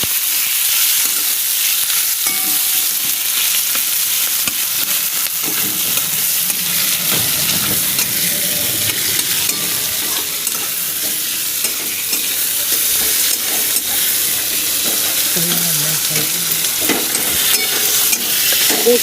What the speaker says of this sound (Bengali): দেখছেন এখন পেঁয়াজ, টমেটো দেবো, কাঁচা লঙ্কা, শুকনো লঙ্কা, গোটা গরম মশলা, তেজপাতা সব দিয়ে কষানো হচ্ছে।